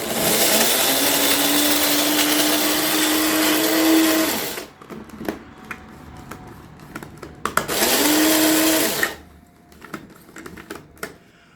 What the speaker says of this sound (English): My little coffee grinder here